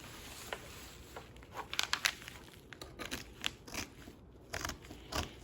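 Scissors cutting through t-shirt fabric for a shoulder bag, a quiet run of irregular crisp snips and rustles close by, no talking.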